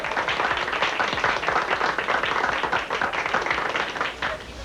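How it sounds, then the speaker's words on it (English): A studio audience keeps applauding in a continuous, lively burst of clapping, close and full, with individual claps standing out from the dense mass. "Keep applauding."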